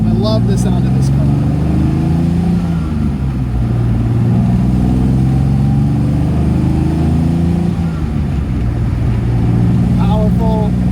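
A Jaguar XK150 car engine rumbles steadily and loudly throughout, its pitch rising and falling slightly as it revs, with a brief squeak near the end.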